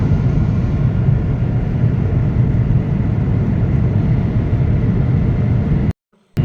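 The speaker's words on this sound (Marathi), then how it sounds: "आता होत आहे प्लेन लँड" Loud, steady roar of a jet engine heard from inside an aircraft landing at Guwahati, broad and unchanging, cutting out abruptly near the end.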